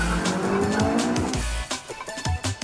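A car on nitrogen-filled tyres in a performance test, engine roaring loud and close while the tyres squeal and skid through hard cornering, the sound breaking into short bursts toward the end.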